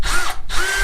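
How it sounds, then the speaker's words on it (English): A power drill undoes bolts on a flue in a stone finca restoration, two close whirring bursts with a brief gap between them, loud and near. "If I undo these bolts here"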